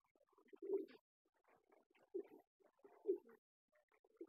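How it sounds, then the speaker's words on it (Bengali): A restless pigeon searching for its missing egg gives soft, repeated cooing calls in short bursts with pauses between, close and fairly quiet against a silent background. "সেই কবুতরটাই এখন ছটফট করতেছে।"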